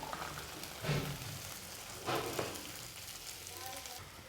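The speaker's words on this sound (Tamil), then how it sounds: "இப்போ இதை நல்லா வதக்கி எடுத்துடலாம்." Garlic and small onions sizzle in a hot pan during sautéing for a traditional Tamil vathal kulambu, a steady low crackle with two brief louder bursts of frying.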